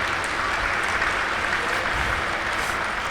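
Dense, steady applause from an audience at a speech during a gold medal event, loud and continuous throughout with no voices over it.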